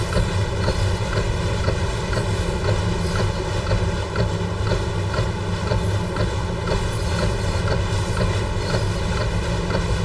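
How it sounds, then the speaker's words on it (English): Simulated train rolling downhill on the Arosa line with a light vacuum brake application as it crosses a set of points, a steady loud rumble of wheels and running gear filling the whole stretch without pause. "Just a little bit of vacuum brake on just to settle the train down as it goes through those set of points."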